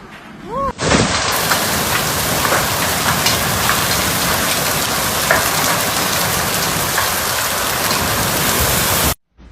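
Heavy hail and rain hammer down in a dense, continuous roar during a storm in Australia, with sharp scattered impacts over the wash, cutting in abruptly after a brief tone and stopping just as suddenly.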